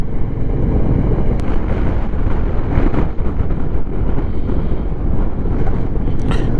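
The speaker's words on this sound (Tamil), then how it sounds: "அந்த குளிர் காற்று தாங்க முடியாது." Strong, cold mountain wind roars steadily across the microphone during a motorcycle ride to Ladakh, a dense continuous rush and buffeting that lasts the whole stretch with no voices.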